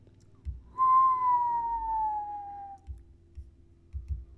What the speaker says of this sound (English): So I'll just record a terrible whistle right here.